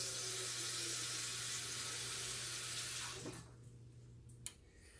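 Seasoned rinse water pours into a pan of goat stew with a loud continuous rushing splash, which cuts off abruptly partway through, leaving a faint hiss and a small clink.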